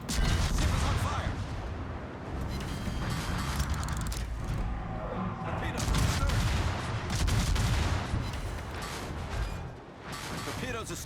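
Naval guns firing in a warship video game, heavy repeated blasts and mechanical clatter in a dense, loud battle mix, with speech underneath.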